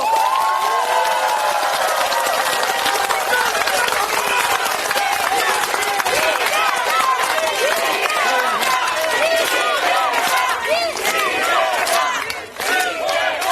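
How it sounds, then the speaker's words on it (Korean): A crowd at a Korean political rally applauds and cheers loudly on request, a dense, sustained roar of clapping and voices with shouts mixed in, easing off briefly near the end. "이 자리를 빌어서 감사한 마음과 힘찬 박수 부탁드립니다."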